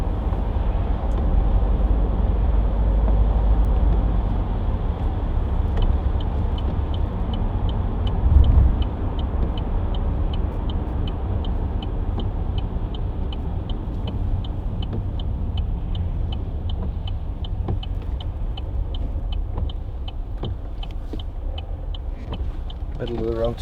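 A 2014 Vauxhall Astra 2.0 CDTi ecoFLEX diesel with a six-speed gearbox drives on the road, its steady low engine and road rumble running throughout, with a brief bump midway and faint ticking above.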